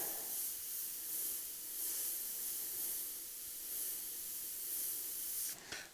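Close, continuous airbrush hiss as black and grey paint is sprayed onto a leather saddlebag to render a skull. The spray is steady and soft with gentle swells, then cuts off abruptly at the very end.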